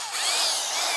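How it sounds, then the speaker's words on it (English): A powerful corded drill runs continuously on AC from a Dabbsson DBS1400Pro 2400W portable power station, its steady high-pitched motor whine close and loud, rising slightly as it spins up, with no talk. "Now this is a pretty powerful drill actually"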